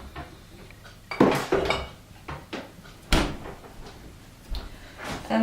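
Kitchen bustle as cold wheat arepa dough goes back in the freezer: several clattering knocks and a thudding door close, close up and fairly loud, with no talk.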